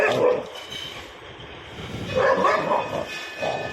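A dog barks repeatedly in short bursts outdoors, moderately close, with a few yips and whimpers among the barks as it squares up to another dog it is being held back from fighting.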